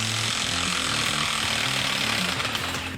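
A big impact gun hammers on a 21 mm bolt during a leaf spring rebuild. It gives one loud, continuous, close-up rattling burst that barely eases off at the end, with no talking.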